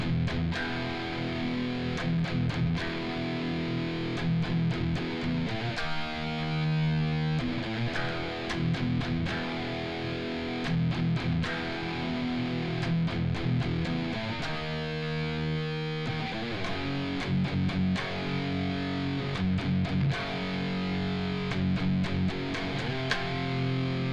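Distorted electric guitar chugging a harmony-section riff, heavy palm-muted rhythm with an awkward, stop-start feel, steady and fairly loud with no voices.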